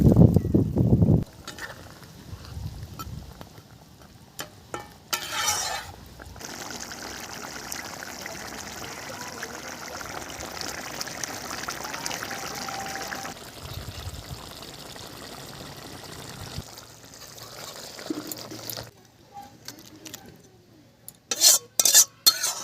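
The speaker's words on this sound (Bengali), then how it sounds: "এবারে আমি মাছগুলো দিয়ে দেবো।" Rohu fish pieces going into simmering curry on a clay stove, a splashy clatter of pot and utensils followed by a long steady bubbling simmer and some pouring, with sharper metallic knocks near the end, no talking.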